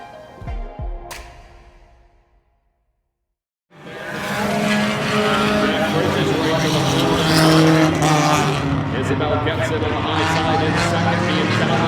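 Stock cars roar through a heat race at Oyster Bed Speedway, a loud sustained engine drone that starts after a brief silence, with tire noise and a commentator talking over it.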